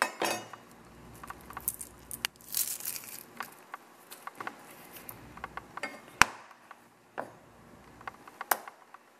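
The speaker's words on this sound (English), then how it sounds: "just drop the onion on it and see if it cuts it?" An onion dropped onto an upturned Shun Santoku 7.5-inch kitchen knife blade, giving scattered close clinks, taps and knocks over a quiet room with no talk.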